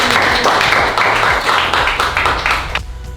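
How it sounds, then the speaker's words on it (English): Real estate team audience clapping for Billy, loud and close, with a fairly even patter that cuts off abruptly near the end. "Everyone give Billy a round of applause."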